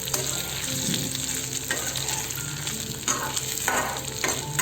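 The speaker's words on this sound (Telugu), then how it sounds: "ఇప్పుడు చామదుంపలు డీప్ ఫ్రై చేశాను కదా ఉడకబెట్టుకొని, అది ఇందులో వేసుకోవాలండి. బాగా ఫ్రై చేయాలి." Boiled, deep-fried taro root pieces frying in a pan, giving a continuous loud sizzle with occasional stirring scrapes throughout.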